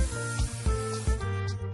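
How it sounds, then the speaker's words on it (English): Cooking oil sprayed onto tofu pieces stacked for an air fryer, heard as a quick series of short hissing spray bursts over a steady humming background. "you spray with more cooking oil and then just carefully stack them"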